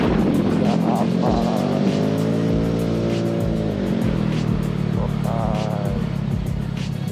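A Vespa Sprint scooter's engine drones loudly and continuously while riding and overtaking in traffic, with rising and falling pitch as it accelerates, wind rumble and surrounding traffic noise, and a rider's brief voice over it.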